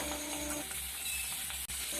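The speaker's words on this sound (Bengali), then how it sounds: "তেলটাও গরম হয়ে গেছে আমি এবার মাছগুলো ভেজে নেবো" Pangas fish pieces frying in hot oil give a loud, continuous, dense sizzle from up close, steady throughout with one brief dip, and no voices.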